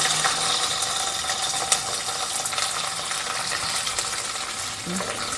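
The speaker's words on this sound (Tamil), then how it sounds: "இந்த வெண்டைக்காயை நம்ம லைட்டாக வறுத்துக்கணும்" Okra frying lightly in oil for green chilli sambar, a steady close sizzle with occasional stirring scrapes and a soft clink, no voices.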